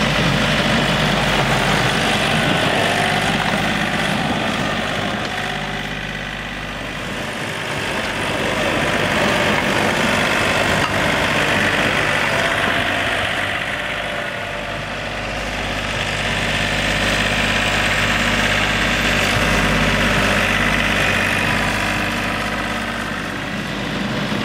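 A John Deere 3025e compact tractor engine idles steadily and close, a continuous low rumble with a gentle swell and fade in loudness, and no voices.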